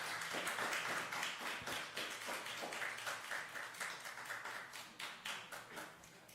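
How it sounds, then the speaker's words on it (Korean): A church seminary class claps steadily to cheer a deaconess on as she comes forward, sustained group applause with a regular, rhythmic beat that fades a little toward the end. "국선영 권사님 나오실 때까지 박수로 응원해주시기 바랍니다."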